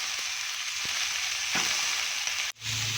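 Crab sizzling in a pan with onion, garlic and ginger, a continuous loud hiss of frying with a few stirring clicks and a short scrape near the end.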